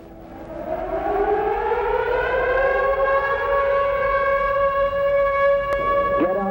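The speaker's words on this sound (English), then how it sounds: "When you heard the siren, though, the chills went up and down your spine" A civil defense siren wails during a flood, rising steadily in pitch and holding a loud, sustained tone with strong harmonics, heard alone and close.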